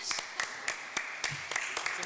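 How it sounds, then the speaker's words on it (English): Scattered hand claps at a town hall meeting, a handful of distinct, uneven slaps spaced through the moment, moderately close against a quiet room. "I'll clap for you, Darius."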